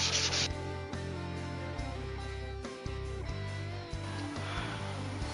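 A Ruger 10/22 rifle bolt is rubbed along sandpaper laid on a flat board, giving a steady, close scraping rasp with a few brief pauses between strokes.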